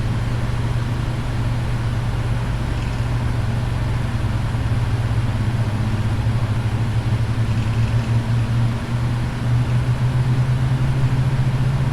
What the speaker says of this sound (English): Okay, we'll wait for the engines to spool up.